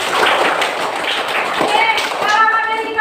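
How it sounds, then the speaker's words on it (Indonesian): A classroom of students claps hands together in a brisk, fairly loud burst, and a voice starts speaking as the clapping trails off. "Masya Allah, tepuk tangan."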